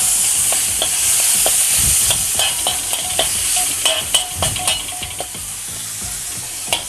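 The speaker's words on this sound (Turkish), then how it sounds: "Pul biberimizden koyuyoruz. Ve bunu güzelce karıştırıyoruz. Birazcık da domates suyumuzdan ekliyoruz." Tantuni meat stirred in a sizzling pan with chili flakes and a splash of tomato juice, a steady close frying hiss broken by repeated scraping and clinking stirs, with no voices.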